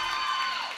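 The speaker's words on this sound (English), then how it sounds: "Can you hear that crowd coming through our microphones?" Crowd cheering at a roller derby bout, a brief swell of distant shouts and whoops heard at moderate level for under a second.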